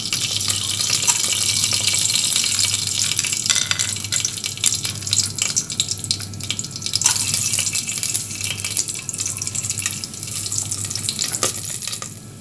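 Whole spices such as cloves, bay leaf and cardamom hit hot oil for a mutton kurma, giving a steady, loud, hissing sizzle that lasts throughout with no speech.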